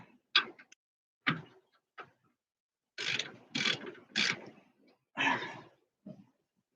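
Ratchet wrench clicking as it works a 10 mm bolt on the rear disc brakes of a 2003 Ford F150, heard in close, distinct bursts of rapid clicks separated by short pauses.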